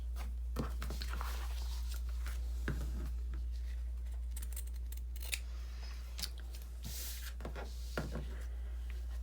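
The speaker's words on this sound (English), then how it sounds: "we want to just cut a little off here, cut a little off" Scissors snip off excess cover material for a handmade cover, giving a series of crisp, irregular cuts over a steady low background hum, close and fairly quiet.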